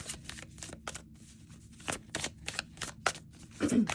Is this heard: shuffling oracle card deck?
yes